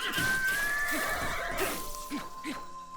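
A horse in Zelda: Breath of the Wild gives a loud, close neigh and whinny, a drawn-out cry with a few shorter snorting bursts after it and no talking.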